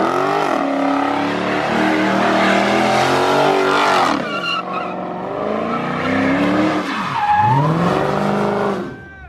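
Street drift car with a straight-pipe exhaust sliding under a highway bridge, loud raw engine revving continuously with squealing tires, dipping briefly mid-way and ending in a final screech before cutting off.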